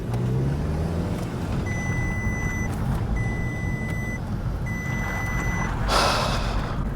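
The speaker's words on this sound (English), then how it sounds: "let's take it for a little drive" VW Golf R Mk7 on a drive, heard from inside the cabin as a steady low road and engine rumble, with a repeating electronic chime sounding three times over it and a brief whoosh near the end.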